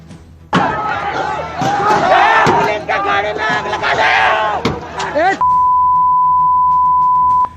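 Violent protest crowd in Dungarpur attacking police with stones: loud, dense shouting and yelling with scattered sharp impacts, cutting off abruptly into a steady high beep tone.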